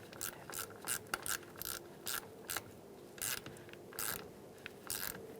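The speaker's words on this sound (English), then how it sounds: "Push it down and use an 8mm socket." Ratcheting socket wrench with an 8mm socket tightening the negative battery terminal clamp on a 2000-2007 Ford Taurus, heard as bursts of quick metallic clicks in short irregular runs, fairly close and moderately quiet.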